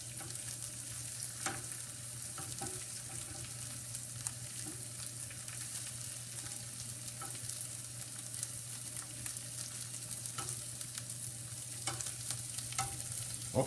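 Chopped shallot and onion sizzle and fry steadily in a pot on low gas for a zucchini flower frittata, a close continuous crackle broken by scattered stirring taps.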